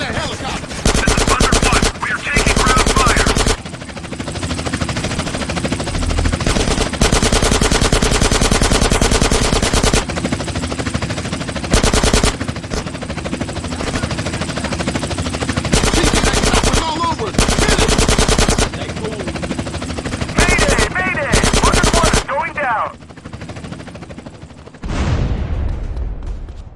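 Machine guns fire at a helicopter in GTA San Andreas, loud bursts of rapid automatic gunfire repeating in clusters with short gaps, alongside a continuous engine drone in between.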